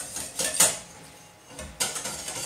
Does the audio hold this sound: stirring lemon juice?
yes